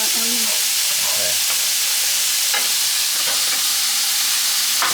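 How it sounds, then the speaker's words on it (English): Onions sizzle and fry steadily in a hot pan while pork is cooked, giving a continuous, even crackling hiss at close range with no one talking. "Here goes the onions."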